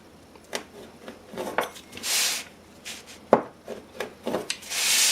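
A knife cuts scone dough into wedges on a wooden board, making several short, soft scraping and tapping strokes at irregular intervals, close and fairly quiet.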